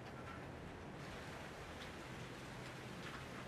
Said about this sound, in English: It is fucking raining blood.